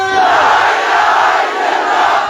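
A large crowd at a political rally in Maharashtra chants a slogan in unison, a loud, dense roar of massed voices that holds steady throughout.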